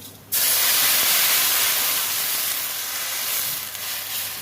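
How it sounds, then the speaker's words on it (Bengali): Moong dal with two bay leaves and two cardamom pods meets a hot pan and bursts into a sudden loud sizzle. A steady, close hiss follows and eases slightly toward the end. "ডালটা ভেজে নিয়ে দুটো তেজপাতা দুটো এলাচ দিয়ে দিলাম"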